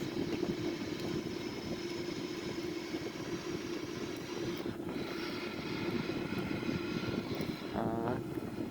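A Boeing 787-900 jet rolls down the runway and lifts off, its engine roar a steady, broad rumble that holds at moderate loudness throughout, heard from inside the aircraft with no talking.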